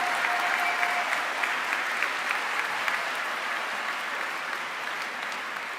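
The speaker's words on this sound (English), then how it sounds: "give them a round of applause for all they've done to support you along the way" Sustained applause fills a large room as graduates' loved ones are honored at a commencement ceremony, steady dense clapping from a big crowd, even in loudness throughout with no voices rising above it.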